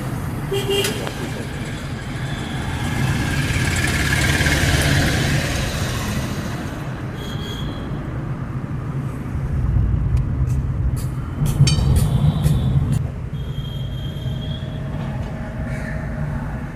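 Guwahati railway station, a low continuous rumble of trains and platform bustle with mixed crowd noise and a few faint tones, people talking throughout.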